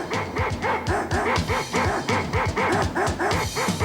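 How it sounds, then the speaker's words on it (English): Dogs riding on the back of a truck bark steadily in a rapid, repeating rhythm, close and loud, yipping and whimpering with no talk over them. "There's a dog on the back of the truck"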